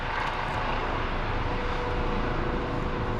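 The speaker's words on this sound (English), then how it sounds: "You get choppers coming in" Aircraft engine drone from a helicopter flying in toward a nearby hospital, a steady broadband rumble holding evenly throughout without voices.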